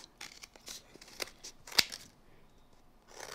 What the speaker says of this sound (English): this extra bit, I'm just going to nip away with some scissors